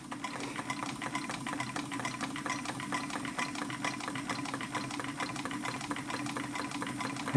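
A Robinson hot air engine runs steadily, giving a continuous fast mechanical chatter and hum at an even, moderately loud level with no talk.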